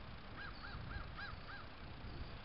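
Five harsh caws in a steady, evenly spaced series, moderately distant, over a low rumbling background with no talking.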